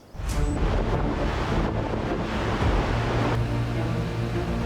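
Strong wind blows across rugged, empty high terrain in the Himalayas of the Manaslu region, Nepal, a steady, loud roaring rush with low rumbling gusts that runs through the whole stretch, with no voices.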